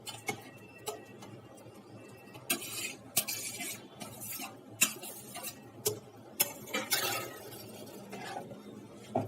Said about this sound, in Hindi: आलू को अच्छे से मिक्स कर लेंगे